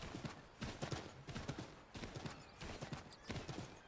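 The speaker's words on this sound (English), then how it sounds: "now I can call my horse" Horse hooves clip-clop at a brisk trot in Assassin's Creed III Remastered, a rhythmic beat of close, clear hoof strikes heard alone.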